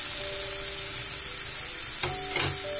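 Chopped banana stem goes into a pan of browned onions and is stirred, giving a steady loud sizzle with a couple of sharp scraping stirs near the end.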